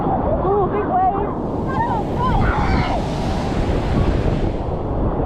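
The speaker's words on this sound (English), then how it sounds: "Oh, big wave." Ocean surf breaking at a beach, a continuous loud wash of waves with wind buffeting the microphone, while voices talk and react over it.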